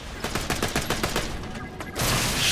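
Rapid bursts of gunfire from the shooter video game Borderlands The Pre-Sequel, a dense run of repeated shots, loud and close, with a voice briefly talking over them and a louder noisy burst at the end.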